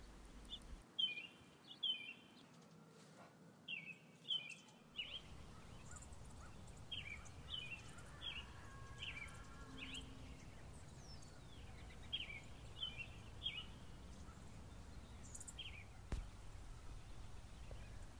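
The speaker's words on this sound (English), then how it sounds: "Can you hear the birds?" Birds chirp in short repeated bursts over a steady outdoor hiss, calls fairly distant and spread across the whole stretch.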